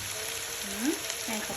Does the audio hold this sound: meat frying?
yes